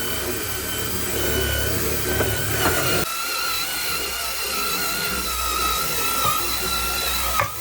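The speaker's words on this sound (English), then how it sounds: "And now we brush." A scrub brush works over a soaked, degreased floor in the cab of a 26-year-old Cummins truck, giving a steady broadband scrubbing hiss that shifts in texture partway through, close and continuous.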